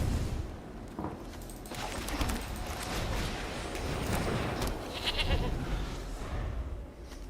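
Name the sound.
possessed goat card bleating in MtG Arena video game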